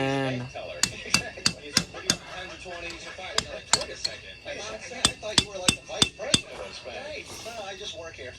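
Sharp metallic hammer strikes ring out on parts of a 2001 Yamaha YFS200 ATV, a dozen or so close blows in an uneven rhythm, with someone talking between them.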